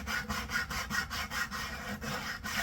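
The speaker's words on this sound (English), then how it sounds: "I'm going to start sanding the side of the fingerboard" Steady rhythmic rasping of sandpaper rubbed back and forth on the side of a wooden violin fingerboard, close up, about a dozen even strokes with no voices.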